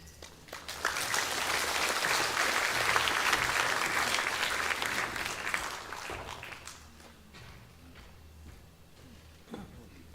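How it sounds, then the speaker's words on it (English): Sustained audience applause for Miss Tara Shandro at a 50th anniversary sponsors' night, a dense wash of many hands that swells, holds for several seconds, then thins out into scattered claps. "Please give her another round of applause, ladies and gentlemen"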